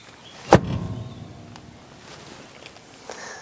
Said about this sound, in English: There's no other door in the world that sounds like this when you close it.